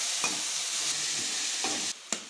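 Rice frying in a pan with turmeric, chili powder and salt just added, a steady close broadband sizzle with a few scraping stirs, cutting briefly near the end.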